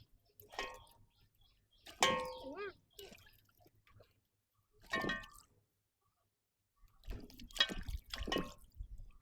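Crabs being washed by hand in water for a Kerala-style crab roast: intermittent splashes, drips and sloshing in short bursts with quiet gaps between.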